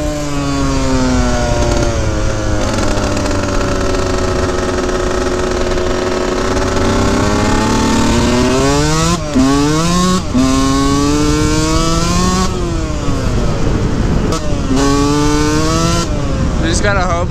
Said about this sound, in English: Those clutchless shifts are so quick.